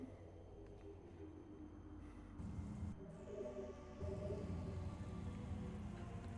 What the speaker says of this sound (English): I love seeing the rain bounce off of her armor.